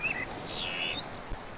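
Outdoor birds chirp in a few brief high tweets over a soft steady background hiss, fairly faint and with no voices.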